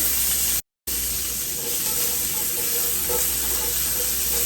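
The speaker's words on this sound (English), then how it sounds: "We're going to introduce our onions to the pan." Onions sizzling in a hot pan for a creamy Cajun pasta, a loud steady frying hiss that carries on without a break except for one short cut, close up, with no talking.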